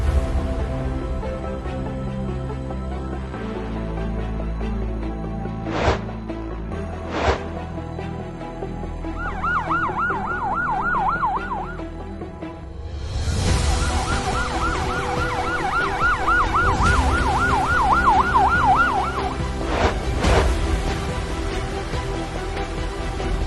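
An ambulance siren wails at a heat-stroke emergency drill in Chaksu block near Jaipur, a rising and falling electronic tone heard in two stretches over road and engine noise, with occasional sharp clicks.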